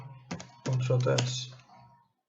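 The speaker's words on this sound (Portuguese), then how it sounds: "e no nosso teste vir aqui no nosso terminal, tá certo? Digitar node test.js." A short burst of keystrokes on a computer keyboard as a terminal command is entered, several quick close clicks clustered over about a second, heard alone without talk.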